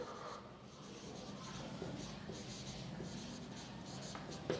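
Steady scratching of writing on a board or paper during a math lecture on coordinate geometry, faint and continuous for several seconds with small taps, in a quiet room with no talking.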